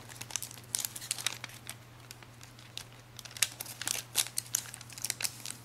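A sheet of origami paper is folded and creased into flaps for a triceratops, with close crinkling and sharp crisp rustles coming in irregular bursts.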